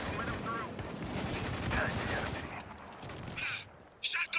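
Gunfire in the video game Spec Ops: The Line, heard as a dense, continuous spray of shots that thins out toward the end, with voices cutting in briefly.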